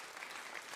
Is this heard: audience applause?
yes